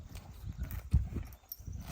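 A working mare's hooves clip-clop at a steady walking pace, soft and somewhat distant against quiet outdoor background.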